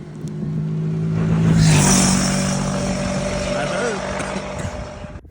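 A car engine revs hard while climbing a desert sand dune near Jaisalmer, a loud close drone rising then holding steady with a strong whine, wind and jostling noise over it.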